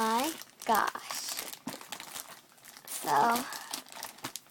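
Plastic packaging of a Moshi Monsters Yum Yum Kitchen toy kit crinkles and rustles steadily as it is handled and opened up close, with a voice speaking over it.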